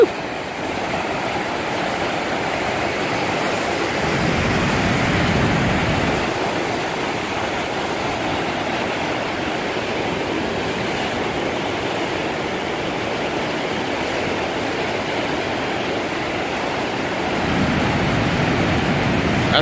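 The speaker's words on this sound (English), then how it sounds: "That's some white water there, boy." White water rushes through Ski Island Spillway in Oklahoma City, a loud, continuous roar that swells and eases slightly, with no voices over it.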